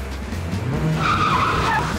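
A car skids with a rising tire squeal over a low engine rumble, loud and close, in one sustained screech without speech.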